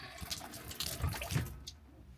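Water gushes and splashes from a temporary DIY tap setup on a boat, spilling out the wrong side; a steady close rush of running water with a few louder bursts, fading out near the end.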